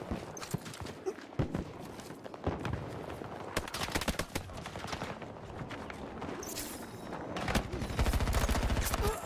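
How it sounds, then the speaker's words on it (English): Sniper rifle gunfire in the Battlefield video game: repeated sharp shots and bursts crack through a busy battle mix of impacts, rumble and clatter, loud and dense, with a heavier roar building toward the end. "I can hear a sniper up here, too."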